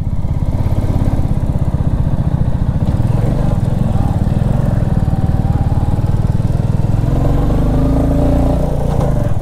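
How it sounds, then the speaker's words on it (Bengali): A motorcycle rides a mountain road in North Sikkim, on the way from Gangtok to Lachen. Its engine thrums in a close, steady, rapid pulse with wind rushing past. "সানসেটের মজা নিতে নিতে আমরা বাইক চালাচ্ছি"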